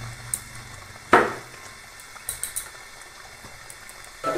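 Fish and pumpkin curry simmering in a pot: a soft bubbling boil with a few sharp clinks of a utensil or lid against the pot, one louder knock early on.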